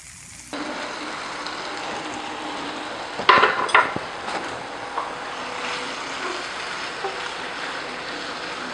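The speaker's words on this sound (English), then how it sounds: "I just basically want to caramelize some of this brown sugar onto the tofu" Tofu caramelizing with brown sugar in a hot pan, a steady close hiss of sizzling with a brief burst of louder crackling and scraping as it is moved about.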